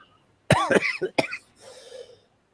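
Two or three harsh, loud coughs in quick succession, followed by a softer, raspy exhale trailing off.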